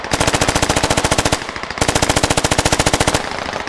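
Sustained machine gun suppressing fire in the video game Squad, rapid rhythmic bursts of evenly spaced loud shots, with a brief pause near the middle before firing resumes, close and dominant.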